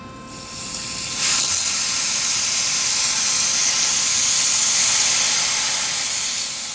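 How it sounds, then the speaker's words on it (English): A water hose pours into the water tray of a plasma cutting table, producing a loud, steady rushing hiss that starts abruptly and holds for several seconds without talk. "you'll need to add some water using the water hose"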